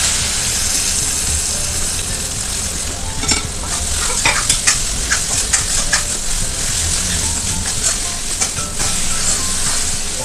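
Cumin seeds and panch phoron sizzling in hot oil for an Assamese chicken and pointed gourd dish, a steady close crackling fry with occasional sharper pops and stirring scrapes throughout.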